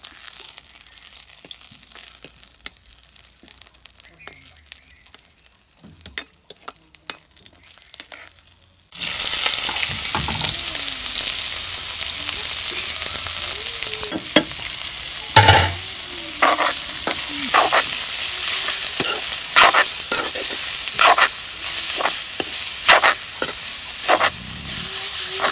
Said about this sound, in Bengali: তেলের মধ্যে আমি শুকনো মরিচ দুইটা ভাইজা নেব।